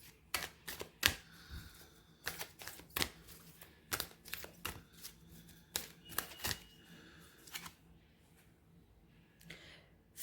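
Tarot cards being shuffled make a quick run of crisp, close taps and flicks that are loudest early on, then thin out into a few softer snaps.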